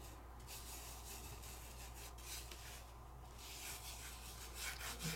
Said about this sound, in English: And I'm just gonna rub those colors.